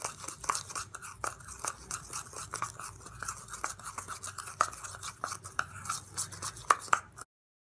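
A homemade honey face scrub being stirred by hand, giving soft, scratchy, irregular scraping and gritty mixing sounds close up, continuous for about seven seconds.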